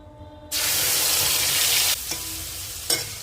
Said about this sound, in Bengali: কড়াই একটু তেল দিয়ে দেব, পেঁয়াজ আর রসুনের পেস্টটা দিয়ে দেব